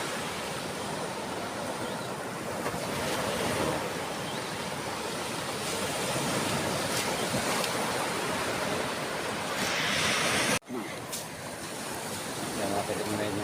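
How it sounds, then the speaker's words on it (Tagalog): Continuous roar of sea surf in darkness before dawn washes in at a steady level, a broad rushing noise broken by a brief cut before it resumes. "Yan yung dagat, oh."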